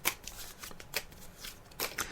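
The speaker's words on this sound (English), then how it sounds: "I'm just shuffling the cards now, Lynn." Tarot cards are shuffled by hand in quick, papery riffling bursts, several soft flicks close by without talk.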